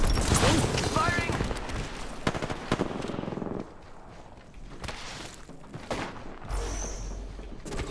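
Weapons fire in a space combat video game, a burst of rapid shots and booms up front with sparser impacts later, mixed with game effects and a voice talking over it.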